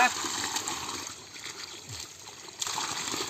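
Water flowing over cow-dung manure spread at the base of a coconut tree, a faint steady trickle with light splashing, heard close and low in level.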